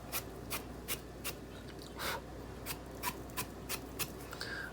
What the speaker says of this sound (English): I'm going to dry brush the pop socket once more. Get all the loose glitter off.